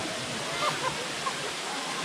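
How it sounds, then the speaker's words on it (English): Water pours steadily over Erawan Waterfall in Kanchanaburi, a continuous broadband rush with small splashes, heard close up and fairly loud with no talk over it. "the waterfalls are pretty spectacular again"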